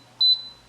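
A single short electronic beep, about 4 kHz, from the start button on an Instant Pot Duo Evo Plus pressure cooker, loud and clear with a quick fade into quiet.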